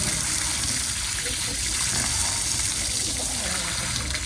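Fresh water pours steadily and noisily to refill the drinking water for pigeons kept by a pigeon club, a continuous close gushing with no pauses.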